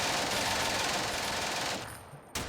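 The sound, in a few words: gunfire in the Steel Panthers WW2 video game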